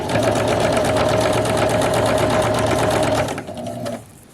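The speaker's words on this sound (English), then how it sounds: "I'm just going to sew a little bit further." A sewing machine runs steadily, stitching along a dress hem near the back seam, a loud rapid mechanical whir close by that slows and stops near the end.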